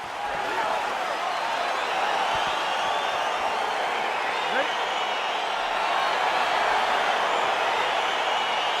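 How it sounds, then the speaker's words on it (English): A dense arena crowd at a UFC fight, a steady roar of many voices swelling slightly as the bout begins, with a commentator talking over it. "crowd getting excited as this fight gets underway"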